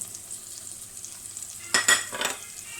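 Chili and turmeric powder fry in a hot pan, giving a short burst of sizzling that swells and fades over about a second, with soft stirring and no voices.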